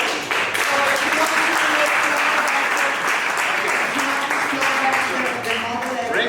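An audience at a Startup Africa Day event applauds, steady dense clapping throughout with a few faint voices mixed in beneath.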